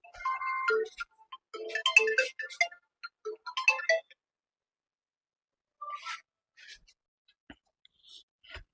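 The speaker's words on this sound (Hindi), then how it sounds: "अरे डिस्टर्ब कर देता है फोन करके" A phone ringtone plays as a bright, chirpy electronic melody in quick bursts of notes. It stops for a moment, then starts again more faintly with scattered chimes.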